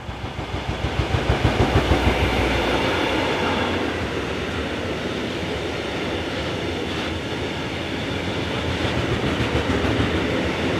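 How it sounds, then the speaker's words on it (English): A northbound grain freight train passes behind Colas G1206 diesel locomotives, the engines roaring up close at first, then a long, steady rumble of wagons with rhythmic wheel clatter and occasional faint squeal. "A grain train heads north behind Colas G1206 locomotives, numbers 9 and 17."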